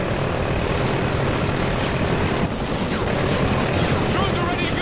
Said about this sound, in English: Drones are ready to go.